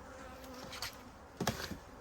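Honey bees buzz faintly and steadily around a hive during an inspection, with a couple of louder passes drifting close by.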